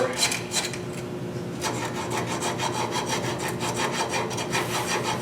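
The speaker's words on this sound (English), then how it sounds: "I'm using some 80 grit here just to blend these edges in" A wooden scoop's edges are sanded by hand with 80-grit sandpaper, making close, rhythmic scratchy rubbing strokes that grow quicker and more regular partway through, with no talking.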